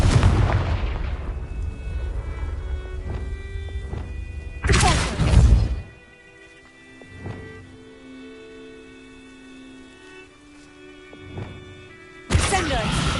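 Deep booming blasts from the Confringo explosive spell in the Hogwarts Legacy video game, one loud burst near five seconds and another at the end, with a heavy noisy start and quiet ringing tones in between.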